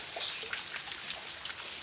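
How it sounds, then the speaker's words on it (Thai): Faint, steady morning rain falls on outdoor caladium seedlings in an uncovered spot, a continuous soft patter with scattered drips. "เช้านี้ก็เป็นวันฝนตกนะคะ"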